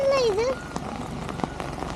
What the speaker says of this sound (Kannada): ಬಾ, ಒಳ್ಳೆ ಮಳೆ ಬರ್ತಾ ಇದೆ.